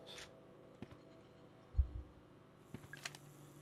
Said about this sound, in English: There's also this heartbeat that's going on here.